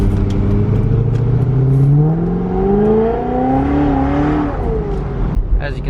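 A 700-horsepower supercharged Corvette engine revs up and accelerates steadily on a rainy highway, its pitch climbing through the gears over a continuous road roar, close and loud.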